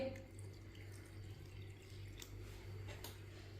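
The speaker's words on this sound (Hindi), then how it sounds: "अब थोड़ा सा पानी डाल लेंगे।" Water is poured into a bowl of maida flour batter with a pinch of salt, made for chicken tikki, heard as a faint, steady trickle close by in a quiet kitchen.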